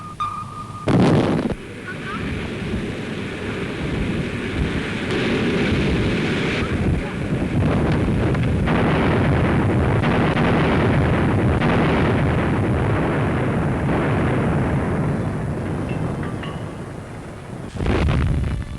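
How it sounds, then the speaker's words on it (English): Heavy, rumbling underwater depth charge explosions from a 1943 naval anti-submarine attack roll on in a sustained, thundering wash, with a sharp burst near the start and another at the end. "the shudder of explosions comes nearer and nearer"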